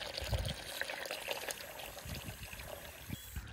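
Water poured into a container at home with a child, a soft, uneven trickle and splash lasting a few seconds at low level, close by and without talk.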